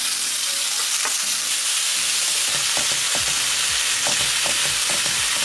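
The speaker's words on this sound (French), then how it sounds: "J'ai mis de l'huile de tournesol et là je vais mettre ma viande hachée à revenir" Minced kefta meat sizzles steadily in hot sunflower oil in a frying pan, a loud close crackle with scraping stirs against the pan and no voices.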